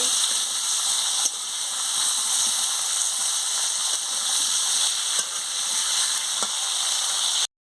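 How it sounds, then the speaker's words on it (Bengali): Potatoes and pointed gourd fry in oil in a pan with a loud, continuous hissing sizzle and a few faint knocks of stirring, with no voices. "ভালো করে আলুকে আর পটলটাকে আমি ভেজে নিচ্ছি।"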